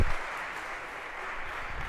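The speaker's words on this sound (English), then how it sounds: "And a round of applause, if we could, for our volunteers." Steady applause from a lecture audience for volunteers, a dense even wash of clapping lasting the whole moment without any talk.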